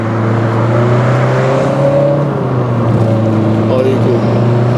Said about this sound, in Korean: 그럼 지금부터 푸조 2008과 함께 달려볼 텐데요